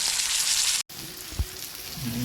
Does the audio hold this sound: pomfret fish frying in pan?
yes